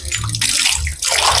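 Water poured into a homemade mini compost bin built from plastic PET bottles, a steady splashing pour that runs in close, loud bursts with brief dips, no voices over it.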